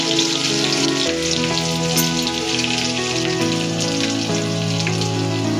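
Chopped onion frying in hot oil with cumin seeds over a gas flame for a village-style stuffed masala brinjal dish, a steady dense sizzle and crackle holding close and loud throughout, with faint tonal background music underneath.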